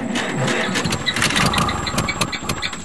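A 1949 Farmall Cub tractor engine being cranked in cold conditions, a rapid rhythmic chugging and sputtering that struggles without settling into a steady idle, close and fairly loud.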